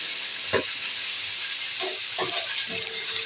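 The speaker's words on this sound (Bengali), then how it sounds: "আমি একটা শুকনো লঙ্কাকে তিন টুকরো করে কড়ার তেলের মধ্যে দিয়ে দিলাম" Dried red chili broken into three pieces sizzling in hot oil in a wok, a steady close-up hiss with a few soft scraping stirs.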